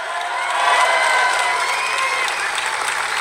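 A campaign rally crowd claps and cheers for a couple of state senators, a dense wash of applause that swells and holds, with scattered whoops mixed in.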